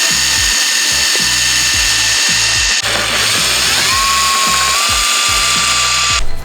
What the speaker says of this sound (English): what we want to do is we want to go ahead and put some pilot holes right before, so our spot weld bit will go ahead and fit right perfect